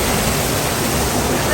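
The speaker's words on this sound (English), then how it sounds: "Lovely waterfall, guys." Dense, constant roar of a waterfall near a resort in Shillim, a broad hissing wash of falling water heard up close with no breaks.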